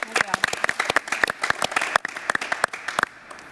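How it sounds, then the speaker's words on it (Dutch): A small audience claps in distinct, uneven bursts, a sparse near patter of individual hand claps rather than a dense roar, with a voice briefly sounding among them before it stops. "geef haar een groot applaus"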